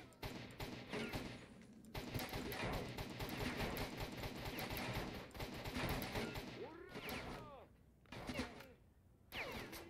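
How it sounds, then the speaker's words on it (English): Gunfire in the video game S.T.A.L.K.E.R. Shadow of Chernobyl comes as dense, loud bursts of rapid shots and mechanical clatter, mixed with a voice talking over parts of it. "that sounded noticeably like a gunshot"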